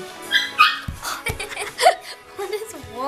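Mini Whoodle puppies giving short high yips and small barks in quick bursts, close by, mixed with a person laughing and talking.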